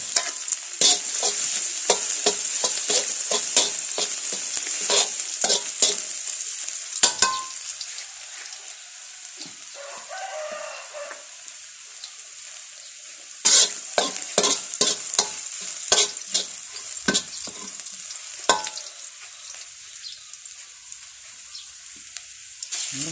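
Garlic stir-frying in oil in a pan: a loud, bright sizzle with repeated spatula scrapes and clacks against the metal, quieting briefly midway before the vigorous stirring resumes, with no talking.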